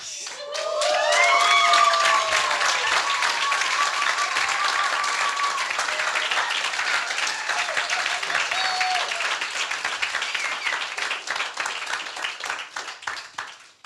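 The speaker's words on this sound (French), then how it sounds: "You know, I've never received an applause like that." Wedding guests applaud inside a church, a loud, sustained crowd of clapping that swells quickly and keeps going for over ten seconds before tapering, with a few voices and cheers mixed in.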